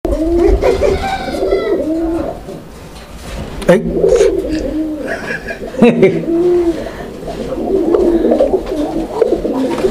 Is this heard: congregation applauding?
no